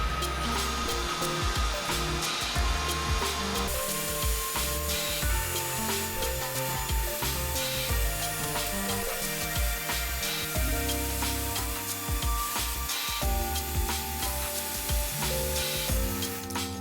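Steady, loud whirring and grinding of sandpaper against a spinning resin workpiece on a lathe, running continuously without pause and with no talking.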